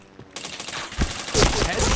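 Rapid gunfire from a first-person shooter video game, a burst of shots ending in a headshot, sounding as a dense crackling volley that grows louder toward the end with a voice in the background.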